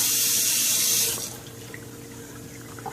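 Tap water runs hard into a sink over brown rice in a strainer, a loud steady rush that stops after about a second, leaving soft dripping and sloshing of wet grains.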